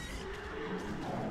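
Horses whinny in World of Warcraft Shadowlands, a short neigh heard fairly faintly within busy game ambience.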